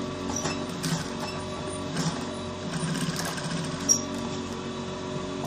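A sewing machine stitches along a line on fabric for a senator top, giving a steady close mechanical hum with faint rhythmic clatter and one small click, and no voices.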